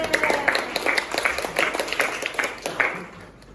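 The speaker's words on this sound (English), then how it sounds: "give applause, Bundan" A small classroom group claps during a microteaching exam session, producing a short burst of scattered, uneven handclaps that gradually thins and fades out.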